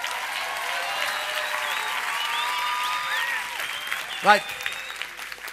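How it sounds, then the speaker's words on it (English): A church congregation claps hands during a charismatic service, a steady wash of applause filling the room, with a brief spoken word and a short sharp sound near the end. "Clap your hands."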